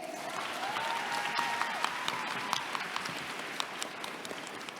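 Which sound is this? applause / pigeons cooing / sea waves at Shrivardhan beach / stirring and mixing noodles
applause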